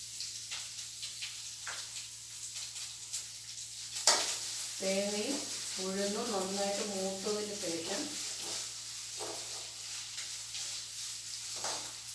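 Urad dal frying in a pan as the base for a jackfruit curry gives a soft, steady sizzle with light spatula taps, and a voice sounds briefly over it midway.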